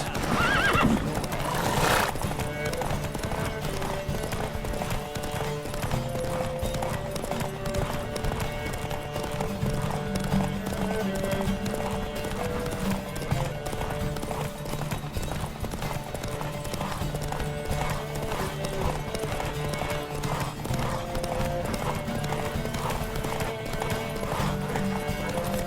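Rapid hoofbeats of galloping horses in a race in the video game The Witcher 3 pound steadily throughout, mixed with a horse's whinny near the start and music-like tones underneath.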